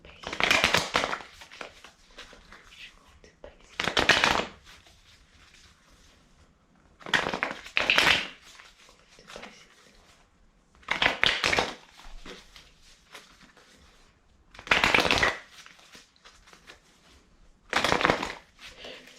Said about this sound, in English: So I'm seeing the 3 of Cups a lot as I'm shuffling this